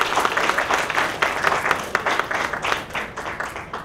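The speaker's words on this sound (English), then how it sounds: "let's give them a round of applause real quick" An audience at a short film awards ceremony claps briskly for sponsors in a short burst of steady, moderately close applause.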